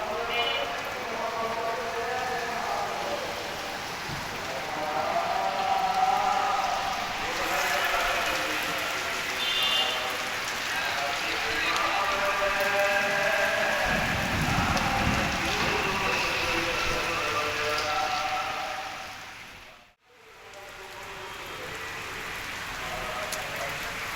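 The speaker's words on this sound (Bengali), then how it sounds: "ও বৃষ্টি, মাশাল্লাহ বৃষ্টি তো ভালো" Rain falls outdoors as a continuous wash of pattering drops, with people talking intermittently over it and a low rumble rising briefly partway through.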